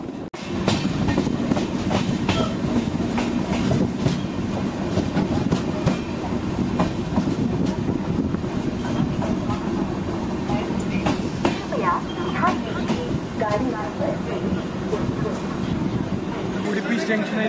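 A Konkan Railway train runs toward Udupi station with a loud, steady rumble and rhythmic clickety-clack of wheels on the rails, close and continuous, with faint voices near the end.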